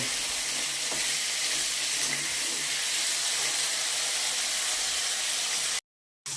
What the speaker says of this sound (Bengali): এখন এই যে আলুটাকে ভেজে নেব